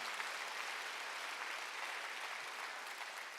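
Church congregation applauding at a midweek worship service, an even, hissing spread of many hands clapping at a distance, fairly quiet and unbroken throughout.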